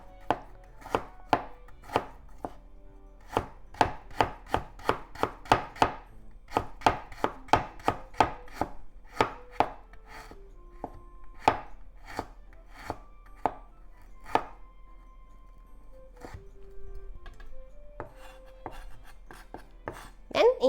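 Fresh ginger with the skin on being sliced with a knife into very thin slices on a cutting board, a long run of crisp, evenly spaced chops, close and clear, slowing and thinning out toward the end.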